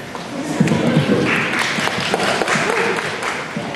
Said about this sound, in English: you've got to clap now for that.